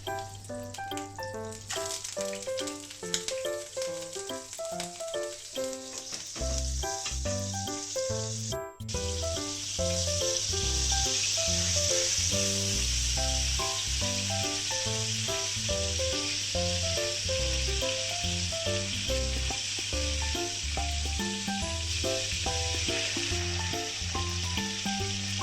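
Butter sizzles in oil in a pan for buttered salmon: a steady frying hiss that swells louder partway through and runs continuously beneath prominent background music.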